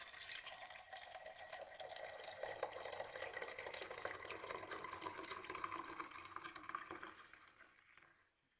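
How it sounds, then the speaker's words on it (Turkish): Tap water steadily poured into a teapot to clean it, a continuous splashing fill running loud and close before tapering off in the final second, with no talking. "Geri kalan kısmına da normal suyumuzu ilave ediyoruz."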